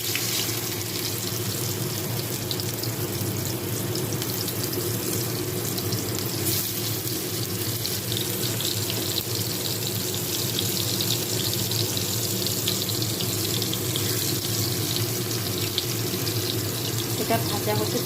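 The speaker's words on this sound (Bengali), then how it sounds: "কড়াইতে আমি গরম তেল করে তাতে আমি একে একে মোচার বউ ভাজাগুলোকে" Banana flower fritters fry in hot oil in a kadai, producing a dense, continuous crackling sizzle that stays loud and even throughout, close to the pan.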